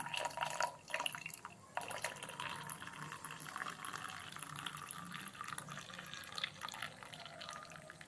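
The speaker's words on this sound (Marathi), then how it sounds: "ह्याच्यातलं आपण आता पाणी काढून घेऊ सगळं" Faint water trickles and drips steadily as water is drained off boiled cluster beans, with quiet clinks near the start.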